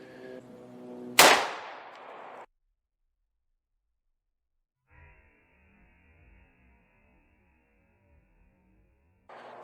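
A single loud .357 SIG pistol shot fired at about seven yards into a 25-pound clay block, a sharp close crack with a short decaying tail, then near silence and faint shuffling noise before another abrupt sound at the very end.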